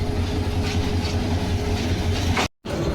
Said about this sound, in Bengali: ব্রহ্মপুত্র এক্সপ্রেস তার পরবর্তী যাত্রাবিরতির উদ্দেশ্যে জামালপুর রেলওয়ে জংশন ছেড়ে যাচ্ছে